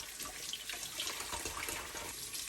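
Cold tap water runs steadily into a sink while eggs are washed under it, giving a continuous close splashing hiss with no talk.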